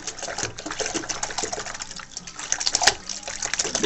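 Water splashing and running steadily while a dove is bathed, a soft continuous wash with small irregular splashes close by, with no clear talking.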